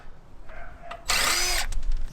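A power tool whirs briefly, then an impact wrench rattles loudly in a sustained burst, close up, loosening 17 mm bolts on a 10th-generation Honda Civic.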